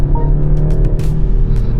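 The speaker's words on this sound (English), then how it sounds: "the noise that you hear on the inside is actually the enhanced noise from the speakers that this car gets" Cabin of a BMW X3 30 SUV with engine sound enhanced through the car's speakers, a steady low droning hum with light intermittent hiss, close and fairly loud.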